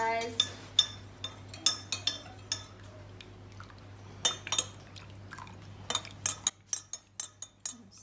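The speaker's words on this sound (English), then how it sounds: "Get into it, just do a lot of stirring, a little bit of clockwise, a little bit of anti-clockwise" Metal spoon stirs jelly crystals in a bowl or jug, giving repeated sharp clinks and scrapes against the side in irregular bursts, with a low steady hum beneath that cuts out near the end.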